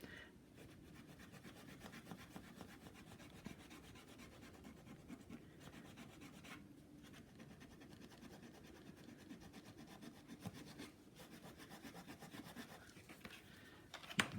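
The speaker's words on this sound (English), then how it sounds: "everywhere that I scrub with this, with the sand eraser, it will pick up the ink" Sand eraser scrubbing ink on a paper Christmas card tag, a faint close rhythmic rubbing and scratching that runs continuously with no speech.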